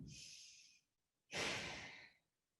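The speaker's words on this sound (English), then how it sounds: "long, deep breathing" Deep yoga breathing: one long, airy exhale, a brief silence, then a second, louder breath, close and clear, with no talk.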